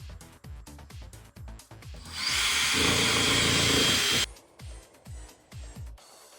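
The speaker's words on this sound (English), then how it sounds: "screw them into your countersink holes" A power drill drives 1.5-inch wood screws into countersunk holes in a wooden stud for a custom metal dance pad, with several short rhythmic taps and knocks around a loud, steady two-second whirring burst near the middle.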